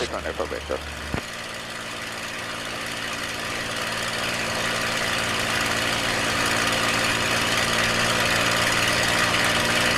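A P-51 Mustang engine runs steadily during a magneto check, a loud continuous droning roar with a rough vibrating rumble that builds slightly in level, following a brief voice at the start.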